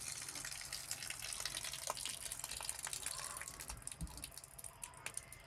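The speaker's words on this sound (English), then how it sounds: "any extra liquid I just pour out on the ground." Leftover liquid from fermented chicken feed is poured out onto the ground, a faint, uneven trickle and splash with scattered drips, set against quiet outdoor background noise.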